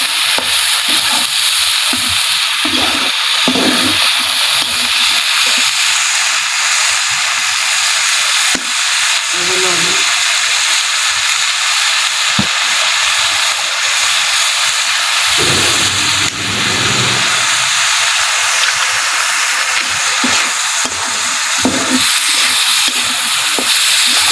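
Pangas fish and stalk curry simmering in a pan while being stirred, with a steady bright sizzle and intermittent scraping stir strokes, close up.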